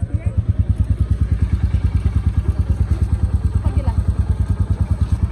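A motorcycle rides along with a close, loud engine thumping in a fast, even rhythm of low pulses, accompanied by faint clatter throughout.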